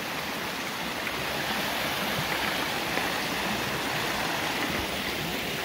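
Continuous rushing of a flowing river, a steady watery hiss and babble close by with no other sounds.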